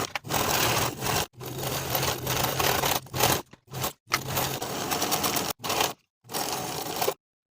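A sewing machine stitches jacket seams in bursts of a few seconds each, its motor whirring and needle clattering, separated by short pauses and stopping near the end.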